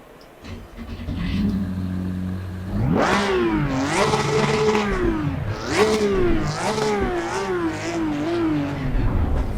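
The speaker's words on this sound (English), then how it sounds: "Nürburgring GP Porsche Cup car 2021 version." A 2021 Porsche Cup car in the Assetto Corsa Competizione racing game accelerates hard around the Nürburgring GP circuit, its engine rising in loud, rhythmic revs as it climbs through the gears and shifts up repeatedly.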